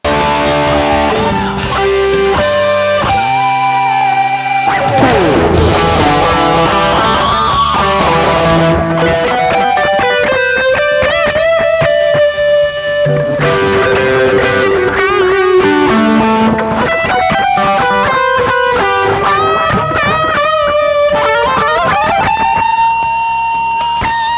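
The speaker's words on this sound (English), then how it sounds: "they released the 1987 Distortion Delay Combo pedal" Electric guitar played through the 1987 Distortion Delay Combo pedal, giving loud, saturated and sustained melodic lead lines with chords and echoing repeats that ring continuously for about 24 seconds, with no talking.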